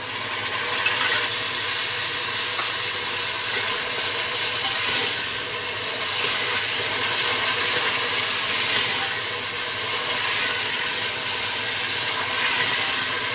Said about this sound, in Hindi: लहसुन और अदरक को हम अच्छे से भून लेंगे